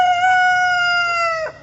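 A rooster crows once, loud and close, a single sustained clear call near the farm's chicken coop in the morning.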